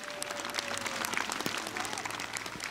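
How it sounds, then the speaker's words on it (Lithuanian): An audience at a family festival in Harmony Park, Lithuania, claps together outdoors, a steady patter of many hands heard faint and somewhat distant. "Jūsų aplodismentai."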